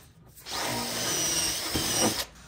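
A power drill bores pilot holes for 6mm screws in a wood frame: a single steady, close whine running about two seconds with a slight rise in pitch near the end, then stopping.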